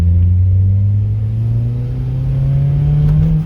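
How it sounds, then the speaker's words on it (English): A turbocharged Mazda Miata making 200 wheel horsepower accelerates hard in first gear, its engine note climbing steadily in pitch as it revs, loud and close throughout with no talking. "That's my turbo."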